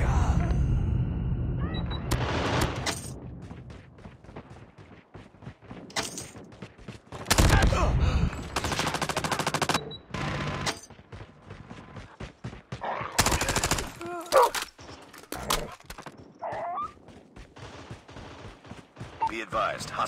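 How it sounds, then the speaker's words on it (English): A hostile sentry gun fires in bursts during a video game heist mode, with loud rattling volleys between quieter gaps while a voice talks at times. "Be advised, hostile sentry gun spotted."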